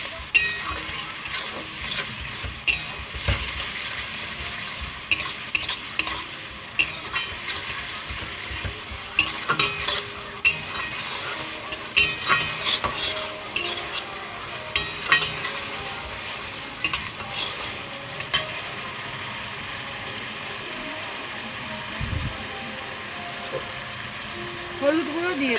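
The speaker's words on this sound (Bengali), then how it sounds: "আদা রসুনটা দিয়ে দেব। এবার আমি একটু ভালো করে কষিয়ে নেব।" Ginger-garlic paste sautés in a pan for soybean cutlets: a steady close sizzle runs under repeated spatula scrapes and sharp clinks against the metal, while a voice talks at times.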